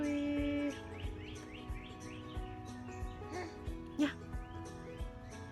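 A noisy bird calling repeatedly outdoors in the Philippines, a series of short chirps and tweets at moderate distance, with a few faint voices and household sounds in the background.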